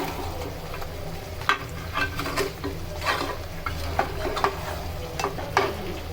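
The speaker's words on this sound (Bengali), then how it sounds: "আলুগুলো ভালো করে মশলার সাথে মিশিয়ে নিয়ে এবার আমরা আরো কিছুক্ষণ কষিয়ে নেব।" Cut potatoes stirred into partly cooked beef and spices in a pot for beef bhuna, with repeated close scraping and stirring strokes over a low, continuous frying sizzle.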